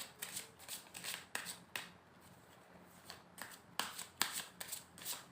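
Tarot cards shuffled close by in quick crisp bursts of riffling, several rapid runs separated by brief pauses, with no talking.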